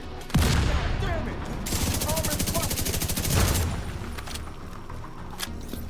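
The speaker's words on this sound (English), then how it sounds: "I hear gunfire." Video game gunfire in The Division during a siege on Wall Street, with a loud opening blast followed by a rapid automatic burst and scattered shots, mixed with game voices.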